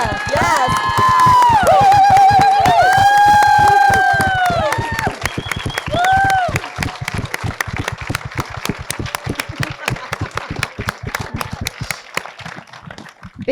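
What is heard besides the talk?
audience applause for film cast and crew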